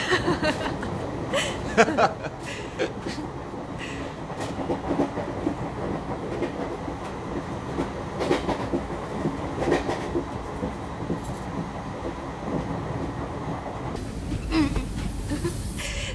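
A moving passenger train rattles and clacks continuously on the rails, a steady close rumble that shifts near the end, with people talking and laughing inside the carriage.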